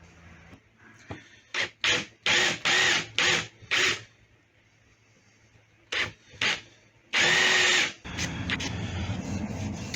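A drill bores tuner holes in a guitar headstock veneer at a workbench: several short close bursts, then one longer run and a steady rough tail.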